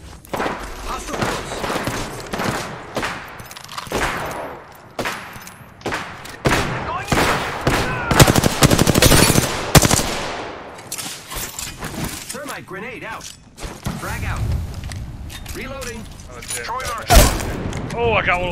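Gunfire in a video game shooter, with bursts of automatic fire and single shots coming and going, some close and loud, some further off, while people talk over the fighting.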